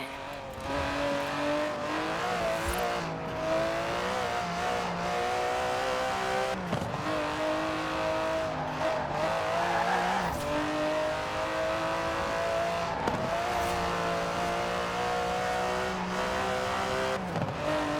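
An Aston Martin DB11 with a 5.2-litre twin-turbo V12 in Forza Horizon 4 revs and accelerates through the gears, a continuous engine note that climbs and drops with quick shift breaks and occasional tire squeal.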